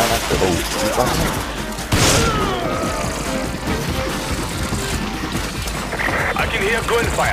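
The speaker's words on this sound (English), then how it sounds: "I can hear gunfire." Bursts of gunfire in Resident Evil 5's Mercenaries mode on the Prison map crackle and pop in the background, with sharp shots and a louder blast amid continuous action noise.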